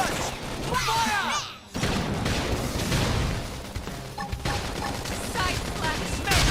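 Rapid gunfire bursts in the video game Xenoblade Chronicles X, dense crackling shots running almost continuously over a busy battle mix, with a brief dropout partway through and game voices mixed in.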